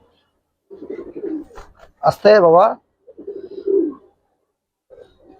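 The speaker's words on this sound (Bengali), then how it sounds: "এটা মাদি কবুতর ভাই" Pigeons coo in soft, low rolling bursts, with a louder warbling call in the middle. Someone speaks briefly close by at the same time.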